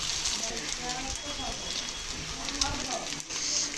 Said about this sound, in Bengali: এটাকে এখন ভালো মতো আট থেকে দশ মিনিট ভেজে নিতে হবে